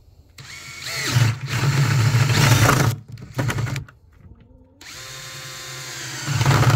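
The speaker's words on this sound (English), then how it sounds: "I just have a 1-inch spade bit here, and I'm going to drill holes" A power drill with a 1-inch spade bit whines in bursts, biting through a plastic bucket with a grinding buzz, stopping and restarting several times up close.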